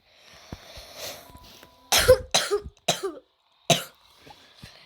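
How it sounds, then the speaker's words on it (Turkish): Several sharp, close coughs in quick succession, some doubled, separated by short quiet gaps with faint breathing between them. "hastaysam, öksürüyorsam özür dilerim"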